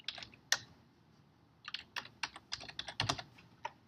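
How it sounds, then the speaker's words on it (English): Computer keyboard typing, with a single sharp keystroke followed by a pause and then a quick irregular run of close, crisp key clicks. "I type stuff down"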